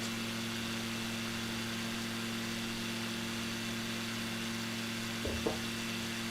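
Aircraft engine in Microsoft Flight Simulator 2020 drones at steady cruise after leaving Ben Gurion Airport, Tel Aviv, a constant mid-level hum with a brief small bump near the end and no talk.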